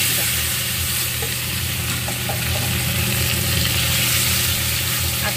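Taro sizzling in a hot pan with very little oil, a steady, dense frying hiss with faint stirring scrapes throughout and no talk.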